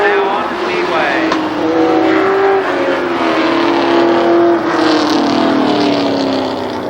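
Race cars at Columbus Motor Speedway roar past on the oval under caution, engines loud and continuous, rising and falling in pitch as they pass, with a commentator talking over the noise.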